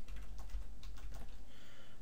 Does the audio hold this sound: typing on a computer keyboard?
yes